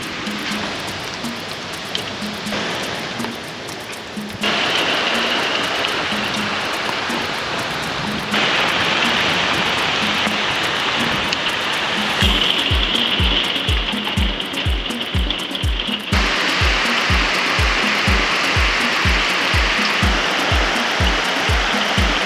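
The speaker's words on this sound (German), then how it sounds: "Der Himmel ist ganz grau und es donnert die ganze Zeit. Ich glaube, es fängt jetzt gleich an zu regnen." Heavy rain during a thunderstorm, a loud continuous roaring wash that swells after a few seconds and later gains a rapid drumming patter, recorded close with no voices.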